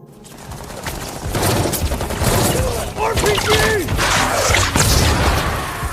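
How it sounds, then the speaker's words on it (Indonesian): Film gunfight between the hero and terrorists during an attack on the president, with dense continuous rapid gunfire, mechanical rattling and action-movie clatter holding loud and steady throughout. "baku tembak antara Mike dan para teroris pun terjadi kembali"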